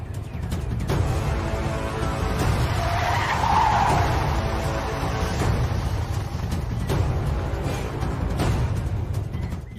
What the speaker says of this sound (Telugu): ఏందా డ్రైవరు సడన్ బ్రేక్ వేసినావో?